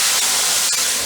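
Water hits a hot pan with oil and minced garlic, bursting into a loud, close, broadband steaming hiss that sizzles continuously with slight surges.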